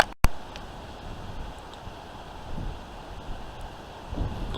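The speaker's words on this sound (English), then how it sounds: "Saying straight line winds, gusting up to 80 miles an hour." Strong gusting wind rising ahead of a thunderstorm, a steady broad roar buffeting the microphone, swelling again near the end after a sharp thump at the start; no voices.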